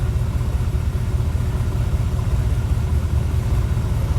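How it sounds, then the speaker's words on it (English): A 1975 Chevrolet Corvette engine idles steadily with a close, continuous low rumble and an even throb, no voices over it. "We're idling nice."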